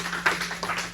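A church congregation claps in acclaim of God during a sermon, a brief stretch of many overlapping hand claps, fairly close and irregular, filling the moment without speech.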